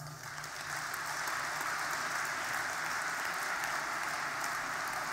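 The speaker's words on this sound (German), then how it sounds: "Applaus" Sustained applause from a large audience at a party political speech, a dense steady wash of many hands clapping that swells in the first second and then holds without voices over it.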